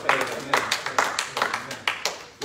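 A church congregation claps in praise, a brisk, steady run of about ten close, crisp claps at an even beat, with faint voices underneath.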